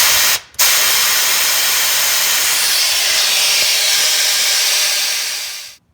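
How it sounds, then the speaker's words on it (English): An air compressor nozzle blasts through a transmission cooler line on a Nissan Frontier or Pathfinder: a loud, steady rushing hiss that breaks off briefly near the start, resumes for several seconds, then tapers and stops. "as we blow this out with our air compressor"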